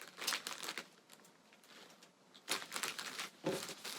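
Tape pulled and pressed onto a small paper craft envelope, giving close crinkly crackling bursts at the start, a quieter stretch in the middle, then louder crumpling rustles near the end.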